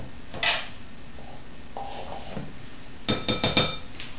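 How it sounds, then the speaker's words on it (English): Baking powder is mixed into all-purpose flour in a bowl for vanilla cupcakes, with a few bright clinks of a metal utensil against the dish and a quick run of tapping scrapes near the end, close by. "I'm just going to mix in 1 tablespoon of baking powder"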